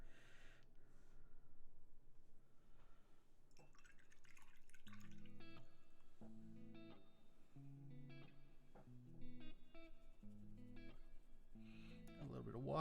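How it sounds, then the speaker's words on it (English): Small amounts of water drip and trickle into paint on a palette for mixing, a soft intermittent patter beneath quiet talk and a sparse background melody. "A little bit of water to help the mixing process."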